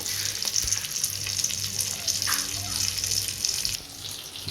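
Steady, crackling sizzle of dry fish frying in oil over low to medium flame, continuous and close, with a brief soft clink partway through.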